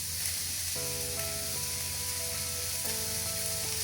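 Minced beef sizzles steadily in a frying pan, a continuous close hiss with a few sustained tonal notes sounding over it partway through; no voices.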